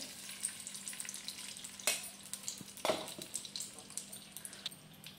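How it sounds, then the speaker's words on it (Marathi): Two spoons of ghee sizzle steadily in a pan while Navratri fasting sheera is made with bhagar and jaggery, giving a continuous close crackle with a couple of sharper clinks from utensils. "आता आपल्याला 2 चमचे तूप घालायचं आहे"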